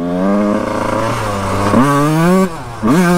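A 1991 Honda CR 125 two-stroke motorcycle engine revving up close and loud, holding a buzzing idle, then blipping the throttle into rising rev sweeps with a brief drop between them, no talk.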